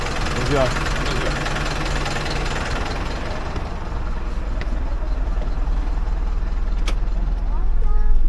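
A bus engine idles steadily at a station in Moldova before boarding, a continuous low rumble with slight knocking that grows somewhat louder toward the end, with a person speaking over it.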